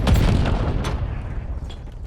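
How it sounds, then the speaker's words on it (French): A single loud grenade blast in Call of Duty Black Ops 7, a heavy boom that hits at once and then rolls off into a rumbling decay over about two seconds. "Grenade à distance."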